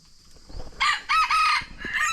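A rooster among chickens crows loudly and close, one long broken cock-a-doodle-doo, after a few soft low sounds from the flock.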